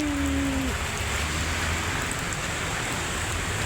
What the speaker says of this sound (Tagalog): inabot tayo ng malakas na ulan